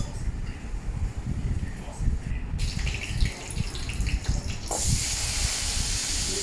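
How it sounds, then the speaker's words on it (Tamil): Eggplant frying in hot oil in a pan gives a steady hiss and sizzle that swells louder toward the end, close by, with a voice talking over it. "இன்னொரு அடுப்பில் கத்திரிக்காய் எண்ணெயில் போட்டு வதக்கி எடுக்கணும்"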